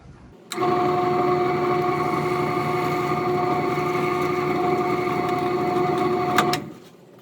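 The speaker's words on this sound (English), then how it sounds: "I will drill my second hole" A drill bores a pin hole through the handle scales of a forged chef knife, a steady close motor whine that starts abruptly and holds evenly for about six seconds before winding down.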